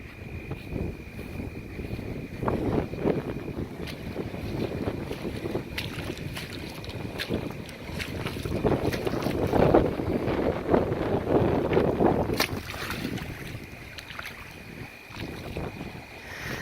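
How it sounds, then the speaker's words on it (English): Strong east wind from Hurricane Michael roars across an outdoor yard near risen water, buffeting the microphone in loud, surging gusts that swell and ease, with no voices heard. "it is definitely picking up in terms of intensity of wind coming out of the east"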